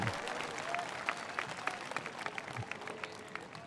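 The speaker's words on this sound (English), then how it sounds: "The round of applause from the spectators here at the stadium" Stadium spectators applauding at a National Day assembly in Brunei, a faint, distant patter of clapping that holds steady throughout.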